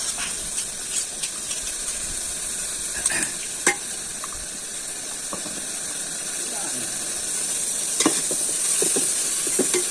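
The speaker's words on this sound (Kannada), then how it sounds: "ಈರುಳ್ಳಿ ಟೊಮೊಟೊ ಮೆಣಸಿನ್ಕಾಯಿ ಎಲ್ಲದನ್ನು ನೀಟಾಗಿ ಫ್ರೈ ಆಗೋವರೆಗೂ ಬಾಡಿಸ್ಕೋಬೇಕು" A pounded paste of onion, tomato and green chili fries with a steady sizzling hiss while a spoon scrapes and knocks against the pan in scattered strokes.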